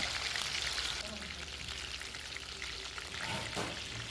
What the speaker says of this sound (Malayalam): ഫ്രൈ ആകുമ്പോൾ വറുത്തു കോരുക